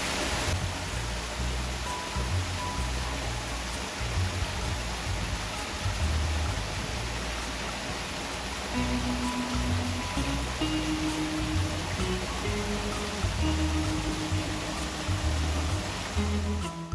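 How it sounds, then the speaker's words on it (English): An outdoor waterfall gives a steady broadband rush of falling water. It sounds continuous and moderately distant, with faint low hums and tones underneath and no speech. "I didn't realize we had a waterfall on this end."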